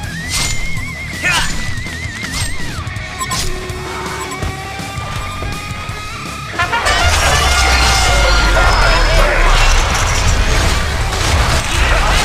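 A horse in the Heroes of Newerth video game gives a loud, close whinny with a wavering trill, followed by clattering hooves and a burst of crashing game effects.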